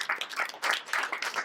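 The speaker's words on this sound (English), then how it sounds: "Can you just give another round of applause for our beautiful panelists?" A post-screening panel audience applauds the panelists, a short burst of uneven clapping from a modest crowd, with individual claps clustering in quick pulses, fairly close and unaccompanied by talk.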